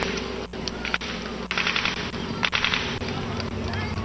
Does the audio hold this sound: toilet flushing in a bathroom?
no